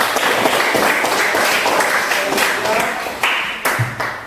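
A classroom of students clapping for a group presentation, a short burst of scattered hands that thins out into a few sharp individual claps and taps near the end.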